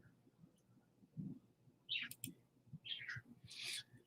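Pet birds perched on top of their cage give several short, high chirps and tweets in quick bursts, faint and fairly close against a quiet indoor room.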